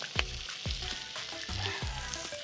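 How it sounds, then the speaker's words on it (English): Bacon frying in a pan on a burger cook, with steady sizzling and crackle throughout and a few louder pops and stirring scrapes close by. "We're gonna let them cook for just a minute, just enough."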